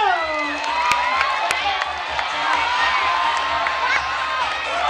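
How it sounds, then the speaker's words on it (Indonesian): A crowd at a bird show cheers and whoops, with children's shouts and a little clapping mixed into a steady, loud wash of voices. "Kita kasih tepuk tangan dulu dong."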